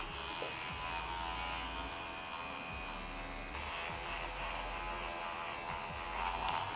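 An electric hair clipper cutting hair during a haircut, a steady close buzzing hum that runs unbroken throughout at moderate loudness, with slight shifts in tone as it moves through the strands.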